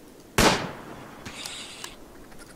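A sharp gunshot hitting a wild boar in the RimWorld video game, one loud crack followed by fainter rattling impact sounds.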